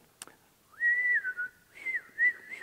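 A man whistles loudly, imitating the far-carrying call his father used to summon horses from distant gypsum hills: a long sustained high note, then a few shorter rising and falling bursts, close and alone.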